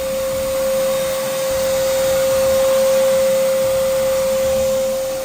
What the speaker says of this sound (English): now we went to move on to the vacuum just to get more of that stuff out